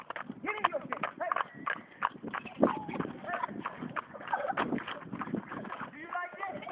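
Hooves of a gaited horse clip-clop steadily nearby while people talk over them throughout.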